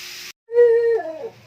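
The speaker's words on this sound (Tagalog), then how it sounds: "Peanut is barking ah." A dog named Peanut lets out a single drawn-out, whining howl-like bark after a brief hiss, loud and close, with no one talking over it.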